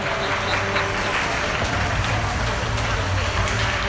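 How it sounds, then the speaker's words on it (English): A raucous, full-house crowd at a high school hockey game in Eagan Arena cheers and roars steadily throughout, with a commentator talking over the noise. "It's a raucous crowd, a full house here at Eagan Arena."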